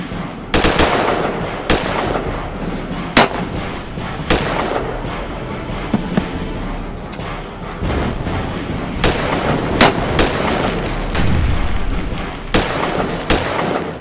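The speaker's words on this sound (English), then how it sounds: "The two sides exchange fire." Battlefield gunfire rings out as Civil War soldiers in a film's Battle of Gettysburg scene exchange fire, with irregular loud rifle shots and booming reports, some near and some distant, over a continuous rumbling background.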